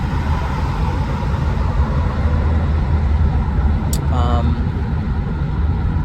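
Car driving on a road, heard from inside as a steady low rumble and road noise, loud and continuous, with a brief faint tone partway through.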